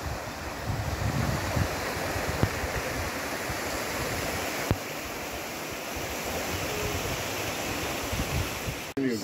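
Water pours steadily over weirs near thermal springs, a constant broadband rush with wind buffeting the microphone and a few faint knocks.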